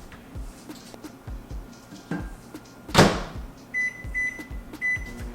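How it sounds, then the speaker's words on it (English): A microwave oven runs with a steady low hum and background clatter, broken by a loud thunk near the middle like a door or handling, then a few faint beeps near the end. "In the microwave for 45 seconds."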